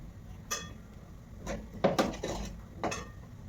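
Misal curry stirred in a metal pot, a few close clanks and scrapes of a spoon against the pot rim and sides in short irregular bursts over a quiet background.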